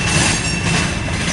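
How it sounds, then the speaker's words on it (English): BNSF freight train passing close by on the Sioux City or Twin City Sub, a steady loud rumble of railcars and wheels with faint squeal, no voices. "Watching this train go from the Heartland Division, swing north on the Sioux City Sub or Twin City Sub."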